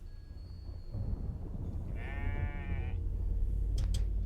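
Goats bleating in the farming video game The Stillness of the Wind, a single drawn-out wavering bleat about one second long over a low soundtrack drone, with a couple of brief clicks afterward.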